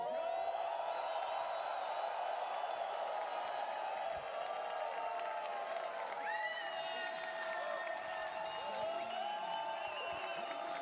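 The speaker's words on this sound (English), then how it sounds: "I want your whole stadium to roar for South America." A huge stadium crowd at The International Dota tournament roars and cheers in a steady, unbroken wash of noise with scattered whoops and clapping, and a voice comes through faintly over it.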